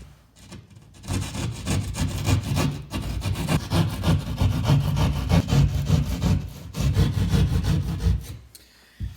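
A hand saw cuts through sheetrock for a ceiling light install, giving a steady, close, rasping back-and-forth stroke that runs for about eight seconds before stopping.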